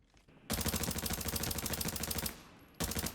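Gunfire from the shooter game Arena Breakout: a loud, fast automatic burst of evenly spaced shots runs for nearly two seconds until the magazine empties, then a second short burst follows after a brief pause, with no talk.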